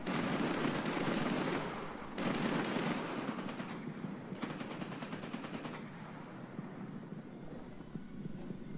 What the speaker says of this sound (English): here's what it looks like firing some heavy cannons with vertical targeting on